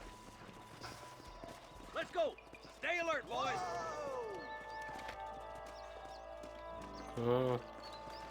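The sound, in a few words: horses walking and whinnying in video game Red Dead Redemption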